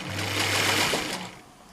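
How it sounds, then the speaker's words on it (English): A sewing machine stitches a seam in a short, fast continuous run that slows and stops after about a second, its motor whirring loud and close, alone without talk. "I'm going to find a mark on the sewing machine and go with"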